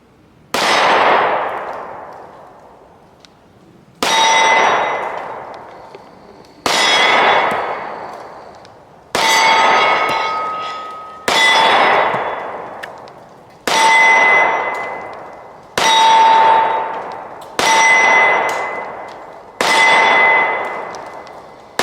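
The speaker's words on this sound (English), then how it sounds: "I'll just shoot the target." Nine loud 10mm pistol shots from a Springfield XDm Elite ring off a steel target at a range, each a sharp crack and metallic clang that decays over a couple of seconds, spaced evenly about two seconds apart.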